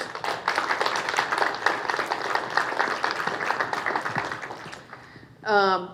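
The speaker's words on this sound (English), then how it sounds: "let's give a round of applause to our panel members" Applause from the audience at a research funding summit, honoring the panel members. Steady clapping fills most of the clip, with a speaking voice rising at the very end.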